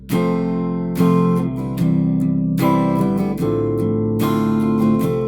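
Strummed acoustic guitar chords from a song, including C over G, ring out in a steady sequence, several chord changes played clearly and fairly loud with no talking.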